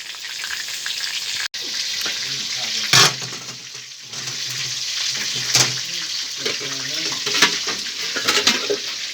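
Shrimp fry in a pan with a steady loud sizzle, stirred now and then, with water running and someone talking over it.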